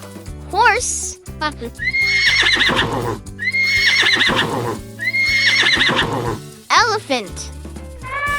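Three loud horse whinnies, each a high, shaking neigh falling away into snorting, over a light children's music backing with short vocal sounds at the start and end.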